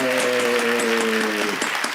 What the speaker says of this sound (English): Let's have a great round of applause for a fantastic presentation by Fiona.